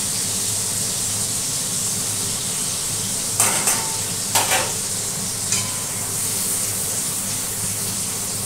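Four crushed cardamom pods and three pieces of cinnamon sizzling in hot oil, a loud, steady hiss with a few short scrapes of stirring partway through, close up and without talking.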